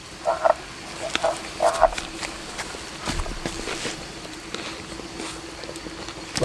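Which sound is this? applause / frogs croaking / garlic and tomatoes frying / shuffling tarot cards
frogs croaking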